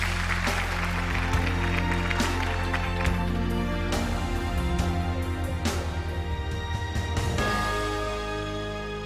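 A studio audience on a television talk show applauds to welcome a guest onto the stage, a steady, continuous clapping mixed with sustained stage music throughout.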